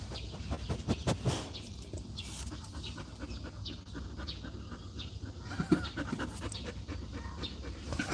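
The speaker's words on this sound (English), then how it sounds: "Can you hear the dog breathing?" A dog pants loudly and quickly nearby, a steady run of rapid breathy huffs with faint background noise behind it.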